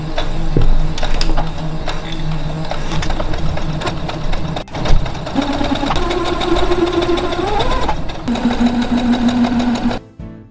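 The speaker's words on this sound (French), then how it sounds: "Maintenant, j'ai plus qu'à coudre des deux côtés comme ça." A sewing machine stitches the side seams of a thrifted dress, running loud and close in bursts with a rapid mechanical whir and changing speed, then stopping abruptly at the end.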